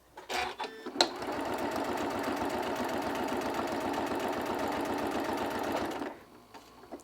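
A sewing machine with a 1/4 inch foot and short stitch length runs close up in a fast, even stitching rhythm for about five seconds, then stops, with a few light clicks around it.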